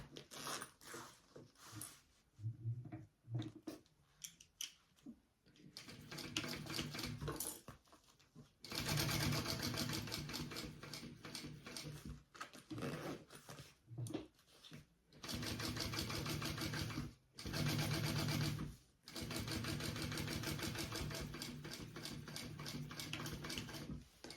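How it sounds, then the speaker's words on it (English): Sewing machine top stitching a pocket on a fabric sling, running in several loud close bursts of rapid needle chatter separated by pauses, with some quiet handling noise in between. "I'm going to top stitch through the top"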